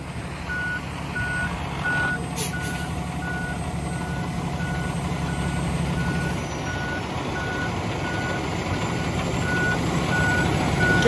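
A truck with trailer backs up during a CDL driving test, its reversing alarm sounding as a steady repeating beep over a continuous engine drone, with no one speaking.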